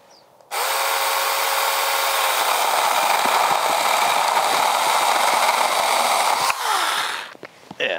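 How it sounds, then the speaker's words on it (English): Saker mini electric chainsaw making a relief cut from underneath a heavy branch: a sharp whirring motor spin-up, then a steady close, loud buzz as the chain bites through the wood, tapering off with rattling as the cut finishes. "turn the saw upside down, give a little relief cut. And now I can come up over the top."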